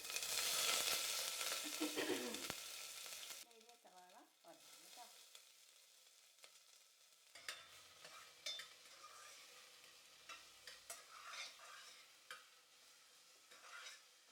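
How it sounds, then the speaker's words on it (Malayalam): Long-sliced onion hits hot coconut oil with a loud crackling sizzle that dies down after about three seconds, leaving faint hiss and scattered clinks of stirring. "എണ്ണ നന്നായിട്ട് ചൂടായിട്ടുണ്ട് അപ്പം ഞാനൊരു ഇടത്തരം സവാള ഇതുപോലെ നീളത്തിലരിഞ്ഞത് അതിലേക്ക് ഇടുകയാണ്"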